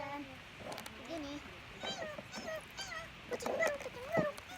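A new cat gives a series of high, wavering meows, some fairly close, mixed with faint voices and light background noise.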